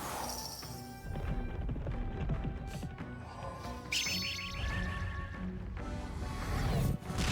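Hooves of a horse-drawn carriage clip-clop in the Metaphor: ReFantazio video game, mixed with game music, crashes and other effects across several busy seconds.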